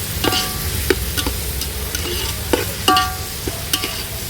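Salted onions fry in a pan for a village-style chicken biryani, sizzling steadily up close while a utensil stirs them with sharp intermittent scrapes and clinks.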